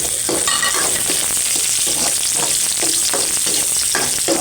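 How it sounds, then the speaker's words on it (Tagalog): Garlic and onion sautéing in a pan, a continuous loud sizzle with intermittent scraping and stirring, close up and with no talking. "gigisa tayo ng garlic."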